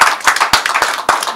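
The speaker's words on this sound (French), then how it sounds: "Je propose qu'on applaudisse au moins" A small group claps at a press conference for the eighth edition of S2IM in Benin, giving brief uneven hand claps in a loose, close rhythm with sharp individual slaps standing out.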